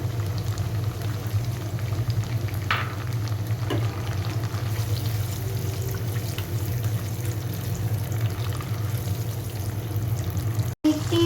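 Dried chili paste and white vinegar frying in a pan for chili chicken, a steady close bubbling sizzle running throughout with a couple of brief scrapes.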